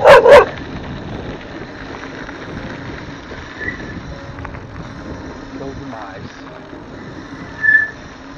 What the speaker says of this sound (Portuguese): Eita, cachorro.